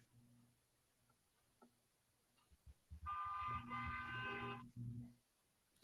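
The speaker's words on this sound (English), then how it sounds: "Somebody's got some honking going on in their neighborhood." Car horns honk outside in downtown Los Angeles, one sustained blare of about a second and a half heard at a distance, amid quiet background noise.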